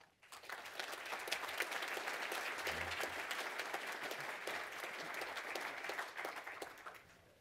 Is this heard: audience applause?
yes